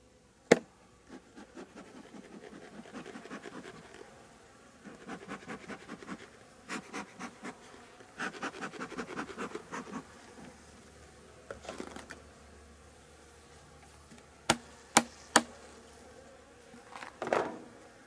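Honeybees buzz at an opened hive during strip removal, with intermittent bursts of buzzing from the colony and a few sharp knocks and handling noises, fairly faint and close.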